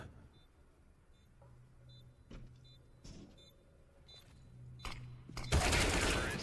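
Gunfire in Counter-Strike: Global Offensive during a Mousesports versus NIP grand final headshot, a few sharp shots late in the moment, the final burst loud and dense over low game ambience.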